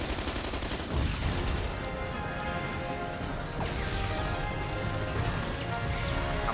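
Dense, sustained gunfire from the video game Resident Evil 6, with overlapping rapid shots and crashing impacts filling the whole stretch at steady loudness and no talking.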